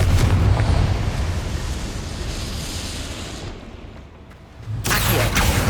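A Confringo fire-blast spell exploding in Hogwarts Legacy, a loud deep booming burst that rumbles and fades over a few seconds before a second sharp blast hits at the end.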